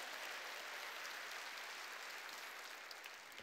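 A church congregation at a Sunday worship service applauding, a soft, even wash of many hands clapping heard from a distance, continuous and without voices.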